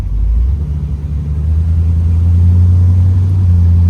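A 1961 Rambler convertible's engine rumbles low and steady while the car is driven, swelling slightly as it pulls along, close and fairly loud.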